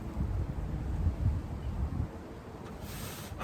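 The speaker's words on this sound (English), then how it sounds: "But it is breezy out here." Breezy outdoor wind rumbles and buffets steadily, with gusty low swells and a brief rise in hiss near the end.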